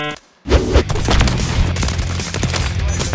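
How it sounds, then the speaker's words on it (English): Dense gunfire from the Modern Warfare 3 video game: after a brief silent gap, loud overlapping bursts of automatic shots crackle in a rapid, continuous barrage close up, with a faint voice underneath. "I shot two people at once."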